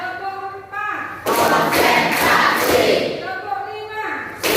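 A classroom group claps together in a dense, loud burst of a couple of seconds, led by a teacher counting claps, with a voice speaking before and after.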